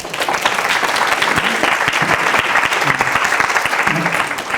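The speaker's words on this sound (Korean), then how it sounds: "아주 좋은 질문했습니다. 박수." A lecture audience at a youth mind-training talk breaks into dense, steady applause, loud and continuous throughout with no pauses, filling the room.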